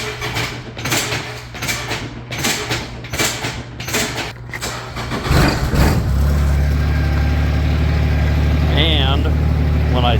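Kubota zero turn mower engine cranking in several short pulses, then catching and settling into a steady, loud, close idle that keeps running, with someone talking over the start.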